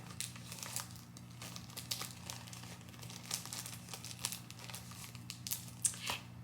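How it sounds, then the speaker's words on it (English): A plastic package crinkles softly and intermittently close to the microphone, giving faint rustles and crackles over a low background hum. "sorry for the crinkling"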